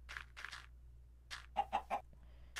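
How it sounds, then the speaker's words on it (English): Chickens in the Minecraft video game, with the Creatures Mod, cluck three times in quick succession, close and clear, after a few softer game sounds over a low steady hum. "Sly, catch those chickens, come on"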